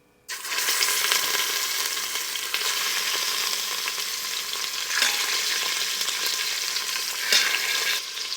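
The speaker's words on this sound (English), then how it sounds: "you're going to add half of the pork chunks and brown them all over" Pork chunks browning in hot melted bacon grease inside an Instant Pot give a loud, steady frying sizzle that starts abruptly and runs continuously, with a few brief scraping stirs.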